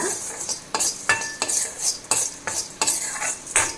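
Rasam spices, including coriander seeds, dry-roasted in a pan on a low flame, with rhythmic metallic scraping and stirring strokes of a spoon, about eight clear strokes in steady succession, close and fairly loud.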